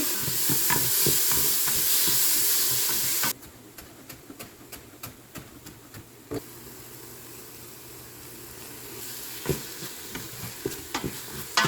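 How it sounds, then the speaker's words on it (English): Tomatoes tipped into a hot pan and stirred, with a loud steady sizzle at first that drops to a quieter crackle with scattered spoon scrapes and clicks, close by, with no talking. "Dump our tomatoes in."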